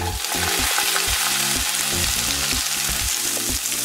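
Steady sizzling of onions frying in hot oil, continuous and close, with a low rhythmic background hum throughout.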